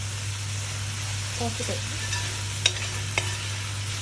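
Fresh garden tomatoes fry over a low flame in a pan with a soft, steady sizzle, while a spoon scrapes and stirs them, adding a couple of sharp clinks against the pan.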